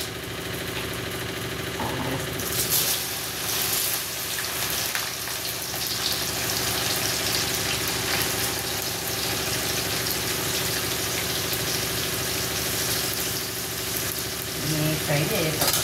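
Okra frying in a pan, a steady close sizzle with a broad hissing texture that keeps up throughout, and speech heard over it.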